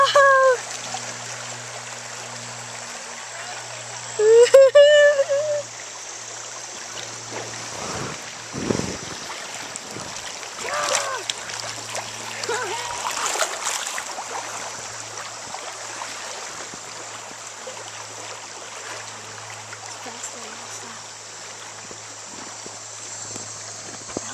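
Rushing water of river rapids on the Cacapon River, heard from a floating craft as a steady broadband wash, with a loud splash and shouts near the start and people talking over it throughout.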